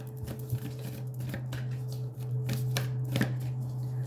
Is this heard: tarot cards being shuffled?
yes